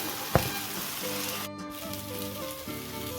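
Washed poha rice stirred into a hot oil tempering in a pan gives a steady sizzle and frying crackle, with a brief sharp clack of a utensil early on and soft stirring scrapes beneath.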